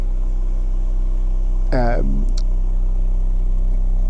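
A Mazda MX-5 2.0 ZSport two-door runs with a steady low engine drone while it is turned around. A short rising, voice-like wail cuts in briefly near the middle.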